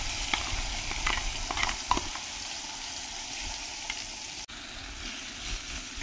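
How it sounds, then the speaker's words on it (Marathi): Onion and tomato paste masala fries in oil in a pan for rajma rice, giving a steady close sizzle with a few sharp spoon scrapes and taps early on. "आता हा मसाला आपण एक 3-4 मिनिटं छान भाजून घ्यायचा"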